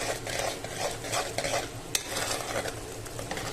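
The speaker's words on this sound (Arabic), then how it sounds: "هنا بسكب الزيت الباقي كله بالخلطة" Oil poured into a thick Adeni harisa halwa mixture and stirred, a steady scraping and bubbling sizzle with rhythmic stirring strokes and one sharp clink near the middle, close and unbroken by any voice.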